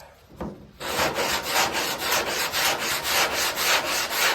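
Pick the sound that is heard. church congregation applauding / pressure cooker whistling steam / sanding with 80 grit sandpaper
sanding with 80 grit sandpaper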